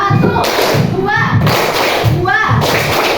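Hands clap in a steady repeating rhythm, groups of beats landing in time beneath a voice speaking over them.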